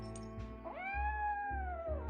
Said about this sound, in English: That's the cat Molly wants me to catch.